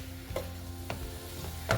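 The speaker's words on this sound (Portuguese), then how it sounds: "Só nesse movimento aqui de mexer o frango na panela, ele já vai desfiando mais um pouquinho." Cooked chicken is stirred in a pan with a spoon, soft scraping strokes and a few light knocks at irregular intervals over a quiet sizzle, close by and fairly soft.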